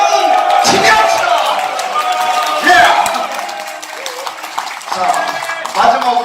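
Audience at a church New Year thanksgiving service and reception clapping, a loud, dense wash of applause with cheering mixed in, tapering off slightly toward the end.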